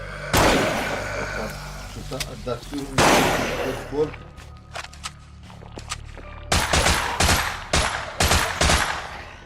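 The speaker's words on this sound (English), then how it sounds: "You can do headshots and you can aim down and shoot off specific body parts" Gunfire in a shooter video game comes as bursts of loud, sharp shots and rapid volleys, with pauses between clusters, a fast rattling string near the end and someone talking over parts of it.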